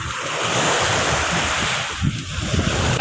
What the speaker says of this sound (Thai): เสียงคลื่นเอานะคะ บรรยากาศสดชื่น